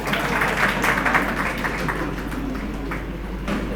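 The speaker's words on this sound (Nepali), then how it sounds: "ताली बजाउनुहोस् न एकपटक।" An audience at a poetry book launch ceremony claps, moderate applause that swells early and then thins out, heard over a low steady hum in the hall.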